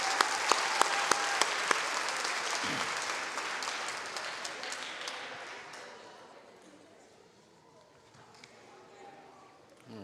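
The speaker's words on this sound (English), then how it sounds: "Round of applause for all of our 6th grade athletes." An audience at a school athletic awards ceremony applauds sixth grade athletes, a dense wash of clapping with some sharper individual claps, strong at first and then thinning out toward the end.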